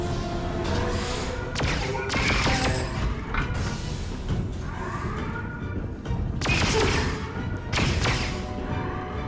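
Blaster-style gunfire from a handheld gun in the Star Wars: Tales from the Galaxy's Edge VR game on Oculus Quest 2. Sharp bursts come in short clusters over several seconds over a busy mechanical game background.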